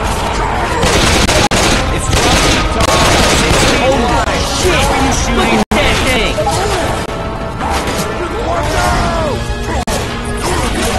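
Loud, dense gunfire rips through a dark scene in the video game Left 4 Dead 2 as players shoot at a huge monster, with bursts and crashes layered over voices talking.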